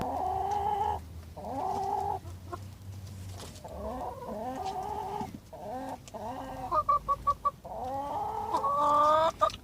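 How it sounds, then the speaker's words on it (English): Chickens on an allotment orchard cluck and chatter close by, a steady series of short, repeated calls with a few rapid bursts toward the end. "These chickens have never seen bread or rice."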